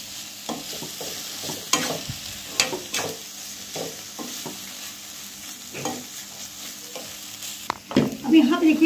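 Paneer momo filling roasting in a pan: intermittent scraping stirs and soft sizzling come in irregular strokes, close and moderately loud, with a louder clatter near the end.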